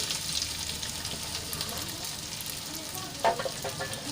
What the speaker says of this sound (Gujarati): અને તેલમાં થોડી વાર માટે સાંતળી લઈશું એકથી બે મિનિટ આપણે આ રીતે હલાવીને એને સાંતળી લઈશું